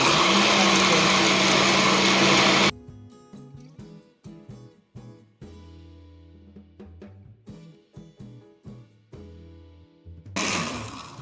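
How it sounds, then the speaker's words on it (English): A kitchen blender whirs loudly and steadily for a few seconds while blending oats into pumpkin. It then stops and is followed by a string of short, sharp knocks and clatters. A brief burst of noise comes at the end. "I'm gonna add a cup of oats into this and blend it in with the balance of the pumpkin"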